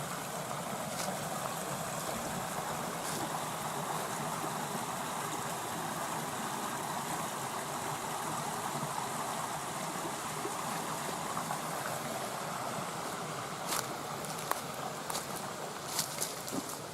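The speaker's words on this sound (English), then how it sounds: "They have a creek." A forest creek near Lake Biwa in Shiga flows steadily with a soft, even rush of water and faint trickling, continuous and fairly quiet throughout, with a few light clicks near the end.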